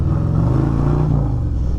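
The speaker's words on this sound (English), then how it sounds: "Man, that exhaust, it's so heavy." 2024 Harley-Davidson Street Glide motorcycle with an RCX Components exhaust, a heavy, chunky low rumble with a pulsing beat, loud and close for a short moment, no voices.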